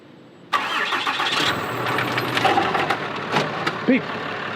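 Pickup truck engine cranking and catching, then idling steadily at close range, with brief voices and a short beep near the end.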